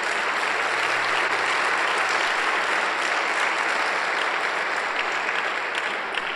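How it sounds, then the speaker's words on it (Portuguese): Congregation clapping steadily at a pastors' breakfast church gathering, dense and loud throughout, sustained without a break and no voices rising above it. "Então dá um aplauso ao Senhor Jesus"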